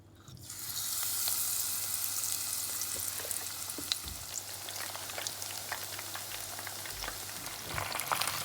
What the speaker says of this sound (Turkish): Artık kızartmaya başlayabiliriz.